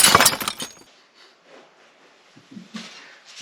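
A glass carboy shattering is added as a sound effect, a sharp loud crash with tinkling shards in the first half-second, followed by quiet scattered clinks and rustling.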